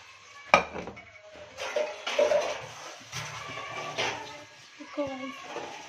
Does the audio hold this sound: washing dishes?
yes